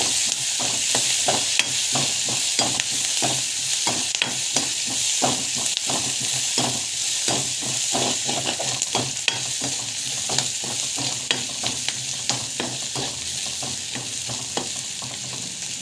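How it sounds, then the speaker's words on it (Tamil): Ingredients are sautéed in a hot pan with a utensil scraping and stirring in quick repeated strokes over a constant close frying sizzle, loud and continuous with no voices. "நல்லா வதக்கி விட்டுக்கோங்க."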